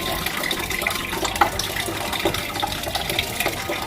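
Fish roe from tuna is rinsed under a running kitchen tap, giving a steady, close splashing and gushing stream with small spatters throughout and no voices.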